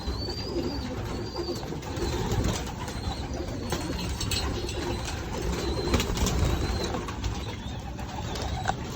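Pigeons coo softly at intervals over a low rumbling background, with faint chirps and an occasional flutter of wings.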